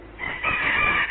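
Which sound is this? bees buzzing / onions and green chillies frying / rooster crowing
rooster crowing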